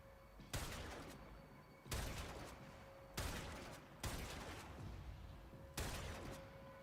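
Gunfire in Warframe rings out as five heavy, evenly spaced shots about a second apart, each a sharp loud crack trailing into a long echoing decay.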